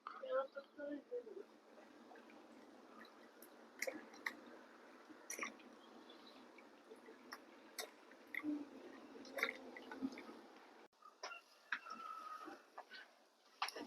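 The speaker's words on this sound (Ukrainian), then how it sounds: "П'ємо чай, їмо бутерброди." People eat sandwiches and sip tea at an outdoor rest stop, with soft chewing, small clicks and the light clatter of cups close by beneath frequent conversation.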